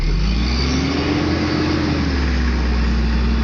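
Toyota car engine running close by, a loud steady hum with a smooth pitch that rises slightly and settles back, unbroken for the whole stretch.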